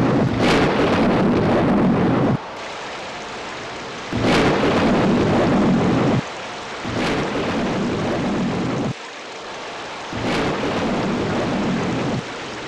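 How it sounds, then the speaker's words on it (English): Thunderstorm with torrential monsoon rain pouring down a mountainside, a loud, dense roar of rain and rumbling thunder that swells and drops in long repeated surges, close and continuous with no voices. "Every monsoon, the sky darkened, and torrential rain flowed down the mountainside."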